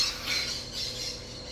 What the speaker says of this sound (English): the parrots are here